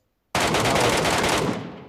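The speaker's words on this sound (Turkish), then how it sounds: "Evet silah sesinden anladım." A video game machine gun fires one sustained, loud burst of rapid shots that starts abruptly after a short silence and tails off at the end.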